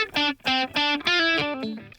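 Distorted electric guitar in a rock style, uncompressed, playing a few short chords with gaps between strums, moderately loud and alone.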